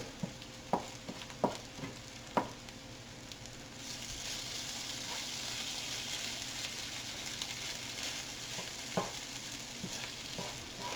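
Cajun hash browns frying and crisping in a pan, a soft continuous sizzle punctuated by several sharp scraping taps of a utensil against the pan early on and once more near the end.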